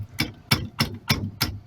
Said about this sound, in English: We'll have to hammer it up front just a little bit.